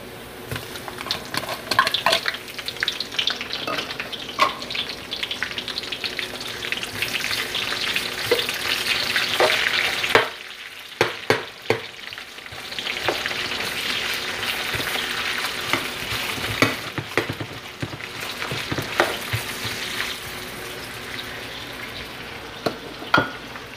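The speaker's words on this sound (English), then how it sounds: "I think our oil is hot enough. So let's start with the garlic. Next, the onions." Garlic and onions frying in hot cooking oil for Ilocano igado, a steady close sizzle with scraping stirs and clinks, briefly dropping off before the crackle resumes.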